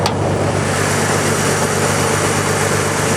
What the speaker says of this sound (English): let's listen to the engine and check out the operation of it